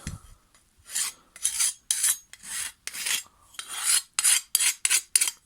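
A hand file is drawn across the edge of the blade from a Hyundai HYM480SPR lawn mower, about a dozen crisp rasping strokes in a quickening rhythm, close and with no voices.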